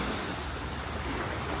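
Small, gentle sea waves wash onto the beach at Sopot, Poland, a steady broadband surf hiss with a soft wind rumble that stays even and continuous, with no voices.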